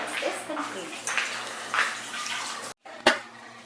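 Eggplant is rinsed under a running kitchen tap, with the water splashing and rushing in uneven bursts, close by and fairly loud, then a brief cutoff followed by one sharp splash.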